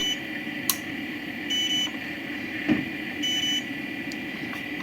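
Short electronic beeps from a 12V-to-220V inverter sound intermittently over a steady background hum, a few spaced chirps and longer tones across a few seconds.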